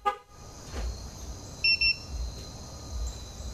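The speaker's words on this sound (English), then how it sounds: "The remote beeps, shows the status of the system." A 2015 Jeep Wrangler's two-way alarm remote gives short electronic beeps on unlocking, two quick tones in a row over a faint steady hum, fairly quiet and close.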